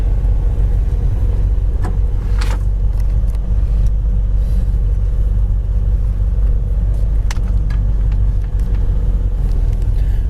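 A 1966 Ford Fairlane green four-speed sits idling, its engine giving a loud, steady rumble that runs unbroken from start to finish, with faint small knocks and clicks on top.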